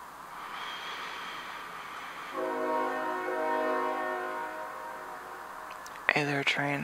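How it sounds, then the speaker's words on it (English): A passing train sounds its horn in a long, steady, multi-tone blast that is distant and moderately loud over a low rumble, followed at the end by a nearby voice speaking. "Hey there, train."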